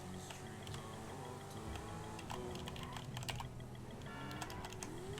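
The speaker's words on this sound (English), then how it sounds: "if you can hear how I'm turning is I'm tapping keys to make particular movements" Rapid, irregular tapping of computer keyboard keys used to steer in GTA 5, crisp clicks in short bursts and clusters, close and quiet with no talk.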